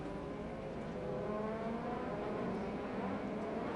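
An IndyCar race car at speed on track with a flat right tire, heading back toward the pits, gives a steady, loud engine roar and whine that holds for the whole stretch with no voices.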